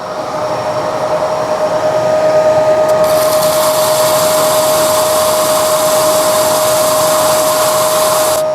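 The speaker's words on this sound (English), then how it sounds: "let's get started with the first of the 4 rings we're going to do on the sanding disc on the lathe." A segmented wood ring is sanded against a spinning sanding disc on a lathe, a steady whirring hiss with a constant motor tone, growing louder and brighter partway through as the wood presses against the abrasive.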